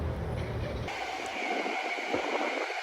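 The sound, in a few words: train passing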